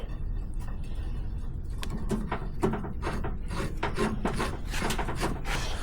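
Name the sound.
threading a Heim joint onto threaded rod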